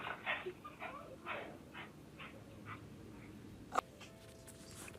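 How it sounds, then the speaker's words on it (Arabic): A dog in a house gives a series of soft, repeated whimpering yips spaced about half a second apart, close by, followed by a single sharper bark near the end. "مش عارفين انه كان في كلب مخيف يعني داخل"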